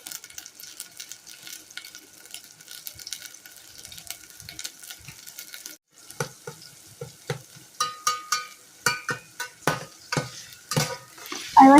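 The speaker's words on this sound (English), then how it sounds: "I like to let those saute for a little bit first" Garlic, onion and green peppers sautéing in a little oil in a heated saucepan: a soft, low sizzle at first, then sharper crackles and stirring scrapes that grow louder and more rhythmic toward the end.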